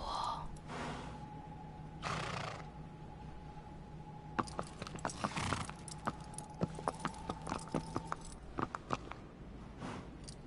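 Horse hooves clip-clopping in the video game Shadow of the Colossus: a faint, evenly paced run of hoofbeats in the second half, after a quieter stretch with soft tones.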